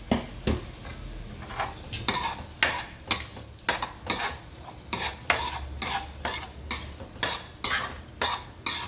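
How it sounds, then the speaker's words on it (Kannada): Capsicum stir-fried in a pan for paneer toofani, with repeated rhythmic scraping and stirring strokes over a steady sizzle, close and fairly loud, with no talking. "ಇದು ಕ್ಯಾಪ್ಸಿಕಮ್ ಹಾಕ್ತಾ ಇದ್ದೀನಿ"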